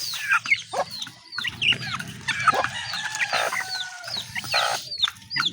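Chickens cluck and chatter nearby in a steady stream of short, rising calls, several birds overlapping with no talking.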